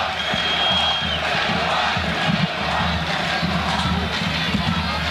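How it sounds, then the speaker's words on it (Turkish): A large crowd roars and cheers continuously at an oil wrestling match in Kurtdere, a dense wash of shouting voices with scattered whoops rising from an outdoor gathering. "tezahüratlar da yükseldi. Pehlivan tezahüratları yükseldi."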